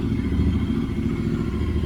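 Royal Enfield Interceptor 650 engine idling with a DNA aftermarket air filter fitted, a steady low rumbling growl with even mechanical pulsing, close and loud, no talking.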